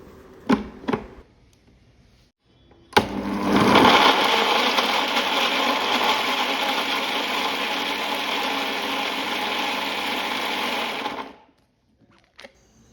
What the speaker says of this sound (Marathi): न पाणी घालताच आपण हे मिक्सरला बारीक करून घेणार आहोत